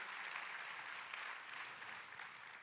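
An audience at an awards ceremony applauding, a dense, even wash of clapping from many hands that holds steadily and fades slightly toward the end.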